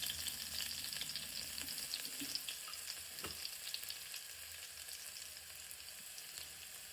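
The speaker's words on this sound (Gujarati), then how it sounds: "તો આપણે એમાં વઘાર માટે સૂકું લસણ અને મરી જે ઝીણું કર્યું હતું" Finely chopped dried garlic and pepper hit hot oil for a tempering for village-style papdi shaak, giving a loud, steady, crackling sizzle with small pops and stir scrapes throughout, and no talking.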